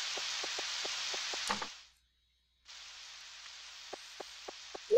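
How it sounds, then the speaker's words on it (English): Steady hissing rain in the Nintendo 64 game Harvest Moon 64, with soft rhythmic drip-like ticks; the rain cuts out briefly, then returns with more ticks and a short chime at the end. "Boy, it's raining a lot this year."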